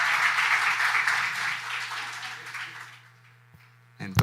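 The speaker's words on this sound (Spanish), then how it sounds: "Yo les pido un aplauso para ella, para que se le quiten los nervios." Applause for a pastor's wife at a church service, a broad wash of clapping that is loudest at the start and fades over about three seconds, followed by a brief pause and a short thump.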